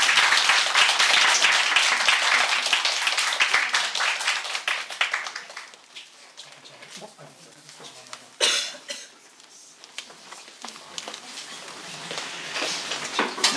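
An audience applauds as a guest speaker is welcomed at a church gathering. The dense clapping is loud at first and thins out after about five seconds, leaving a quieter room with a cough and scattered sounds.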